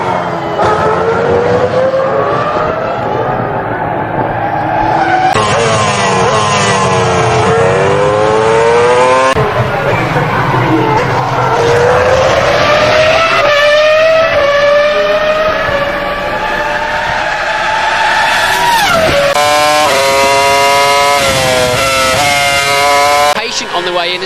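A Formula 1 race car at full throttle howls loud and close, its high engine note climbing through the gears and dropping sharply on a quick downshift before surging again. A commentator talks over it.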